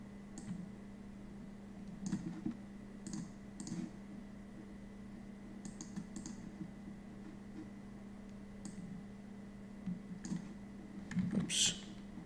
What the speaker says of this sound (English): we double click here and import some videos here